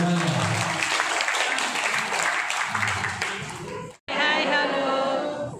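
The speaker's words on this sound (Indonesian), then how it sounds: "Tepuk tangan untuk Bapak Ibu semuanya." Audience of teachers at a school curriculum event clapping together in a dense, steady burst, cut off abruptly before a voice speaks over the mic.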